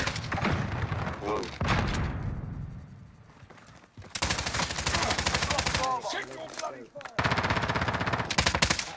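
Call of Duty Warzone gameplay with loud, close, sustained automatic gunfire in long rapid bursts, broken by short pauses and game noise, with voices calling out now and then.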